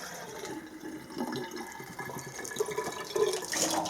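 Water pours and trickles into a home-welded gas heater for a tent, filled to test the welds for leaks; a steady close splashing and running flow with small bubbling changes, no talk.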